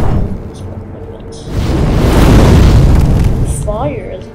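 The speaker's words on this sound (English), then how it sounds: "this is firecracker. Basically stuns enemies." Firecracker prosthetic tool from Sekiro: Shadows Die Twice bursting in the game, a loud, close boom with a crackling blast swelling through the middle and fading out.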